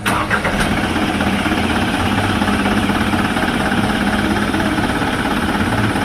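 A diesel truck engine starts and settles into a loud, steady idle close by, a continuous rough rumble that holds throughout with no talk.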